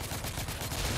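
Weapon fire in the video game The Order: 1886, apparently a napalm-style gun, roars as a dense, continuous barrage of loud, rapid blasts with no pauses and no talk.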